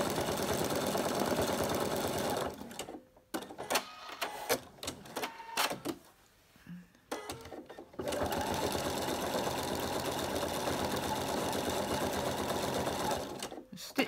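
Sewing machine stitching free-machine embroidery on fabric: steady rapid mechanical whirring runs loud and close, stops for a few seconds of clicks and fabric handling, then resumes continuously.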